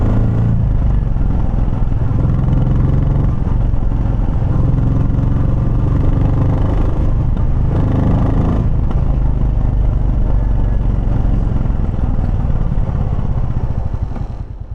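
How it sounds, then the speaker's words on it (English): A motorcycle engine and exhaust roar steadily at close range, loud and continuous with slight changes in revs, recorded on a wireless microphone mounted on the bike, with no talking. "if I want to listen to the sound of the exhaust and the engine, I just raise the gain of the other level"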